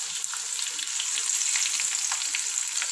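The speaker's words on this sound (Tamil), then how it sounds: "இப்போ ரெடி ஆகிடுச்சு, இந்த மாதிரி நல்லா ஃப்ரை ஆகணும்." Prawns deep-frying in hot oil for a Tamil prawn gravy (eral thokku) give a loud, continuous crackling sizzle with constant fine popping, close up and with no voices.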